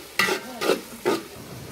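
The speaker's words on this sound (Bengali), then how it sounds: "এগুলো এখন পেঁয়াজ রসুন আদাগুলো একটু ভালোভাবে কষিয়ে নেওয়া হচ্ছে" Onion, garlic and ginger frying in a pan on a clay stove for a three-kilogram beef curry, with three distinct scraping stirs over a faint sizzle, close and fairly loud.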